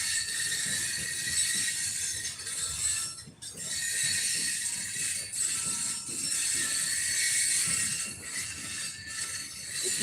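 Slow-moving train braking near a park: a continuous metallic rumble with high squealing wheels and clanking, heard at a moderate distance without talk.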